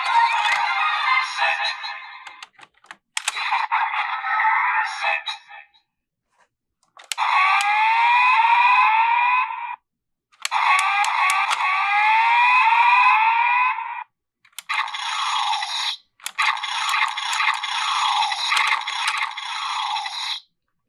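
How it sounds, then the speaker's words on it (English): Bursts of bright electronic sound effects from a DX Desire Driver toy transformation belt, harsh buzzy tones in several separate blasts with short gaps, loud and close, no talking. "No henshin noise, just the basic sound effects."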